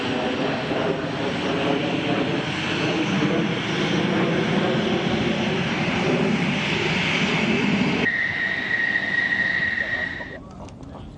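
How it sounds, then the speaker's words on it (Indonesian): An F-16 fighter jet in flight during an Indonesian and US Air Force air combat training exercise, a loud, steady roaring jet engine rumble holding for about eight seconds before thinning to a higher whine that fades out. "Penerbang tempur kedua Angkatan Udara sama-sama menggunakan pesawat tempur F-16."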